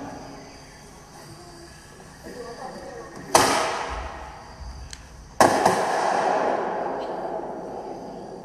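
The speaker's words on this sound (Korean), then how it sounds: "축제의 재미를 알리는 폭죽을 선교사님이 터뜨립니다." Fireworks set off at a festival, two sharp loud bangs a couple of seconds apart, each followed by a crackling, hissing decay, over a quiet outdoor background with some voices.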